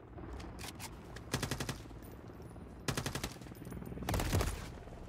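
Automatic gunfire in a video game, three short rapid bursts of about five shots each, crisp and fairly close, separated by a steady low background of game ambience.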